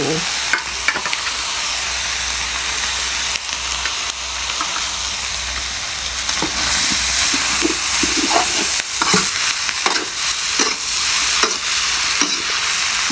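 Rice and egg being stir-fried in a hot pan for home-style Thai egg fried rice: steady sizzling hiss with repeated scraping and stirring strokes from a spatula, close and continuous.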